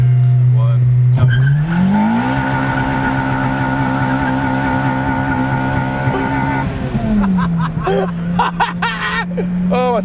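A Honda Civic Type R EP3 revs, then drops the clutch for a hard launch. A loud climbing engine note with tire squeal carries through a gear change, recorded close from inside the car.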